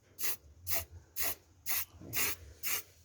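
Six short, evenly spaced hissing bursts from an aerosol spray paint can coating a recycled tin can, each burst sharp and close with brief pauses between them.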